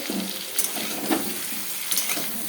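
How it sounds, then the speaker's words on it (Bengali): Mutton fries with new potatoes in hot oil for a mutton kosha: a steady close sizzle, with occasional clinks and scrapes from stirring in the pan and no talking. "নতুন আলু দিয়ে এখানে মাংসটা আমি ভেজে নিলাম।"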